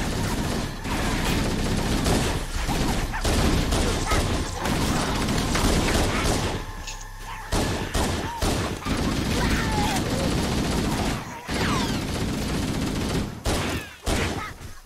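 Gunfire crackles through a Halo: Combat Evolved firefight on the 343 Guilty Spark mission, dense rapid bursts and shots packed together with brief gaps, loud throughout.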